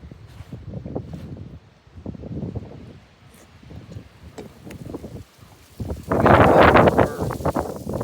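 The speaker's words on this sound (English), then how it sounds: "the wind's blowing" Outdoor wind gusts buffeting a shaking iPad's microphone, low rumbling rushes that swell and drop, then a loud, broad roaring blast toward the end.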